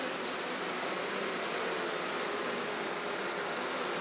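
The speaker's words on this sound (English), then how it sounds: "There's a lot of bees in here." Honey bees fill an open hive box packed with brood frames, giving a steady, dense buzzing hum that stays close and unbroken throughout, with no voices.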